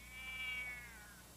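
A cat gives a single drawn-out, fairly faint meow indoors, heard alone without any talking over it.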